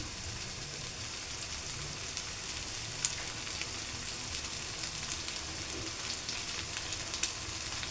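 Eggs sizzle and fry steadily in a hot pan while fried rice is being made, a dense close crackle with occasional sharper pops and no talking.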